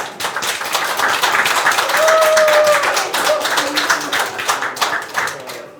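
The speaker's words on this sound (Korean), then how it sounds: "우리 장동혁 의원께 큰 박수 한번 부탁드리겠습니다." An audience at a Korean political campaign rally claps together in a dense, steady round of applause that swells and then tapers, with a faint tonal sound running underneath.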